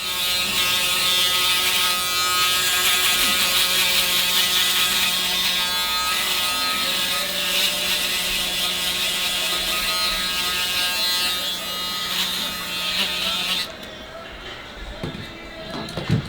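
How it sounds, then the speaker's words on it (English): An electric shaver buzzes continuously and loudly at close range as it trims hair during a barber haircut, running steadily for most of the clip before switching off near the end. "Now I'm gonna use the shaver just to get it a little bit closer."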